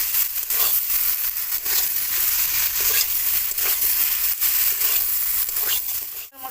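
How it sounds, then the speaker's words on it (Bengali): Green jackfruit is stir-fried with spices in a hot pan, giving a loud, steady sizzle with scraping stirs throughout and a brief pause near the end. "মশলাটা ইঁচড়ের সাথে একটু কষে নেবো।"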